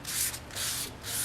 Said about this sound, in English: That's why we call it wet sanding.